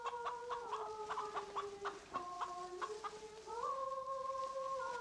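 Chickens clucking in a barnyard scene from the 1967 Soviet horror film Viy, a steady run of overlapping clucks and hen calls held over a sustained tonal background, moderately loud and continuous with no speech.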